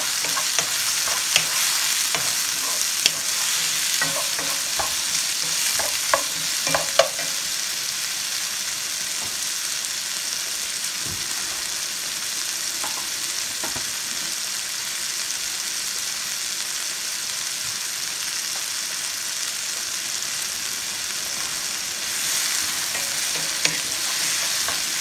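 Garlic cooking in a pan for cauliflower rice and shrimp gives a steady, loud sizzle, with occasional scrapes and stirring clicks in the first seconds and no voices.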